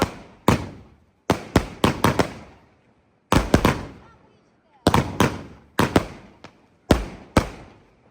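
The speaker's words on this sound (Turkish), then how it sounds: "Havai fişek atıyorum arkadaşlar." Sharp, loud bangs of fireworks set off at a birthday celebration, going off in quick clusters, each crack followed by a short echoing tail, with brief pauses between volleys.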